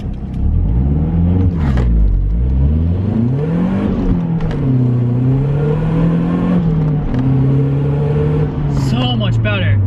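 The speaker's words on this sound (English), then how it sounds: "We're gonna try to do a launch." A car with a new rear motor mount launching hard from a standstill, its engine revving up through rising pitch sweeps and a gear change, loud and close from inside the cabin, with a brief voice partway through.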